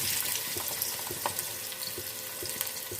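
Onions from three normal-sized bulbs added to hot oil, giving a steady, close crackling sizzle with faint stirring and scattered pops.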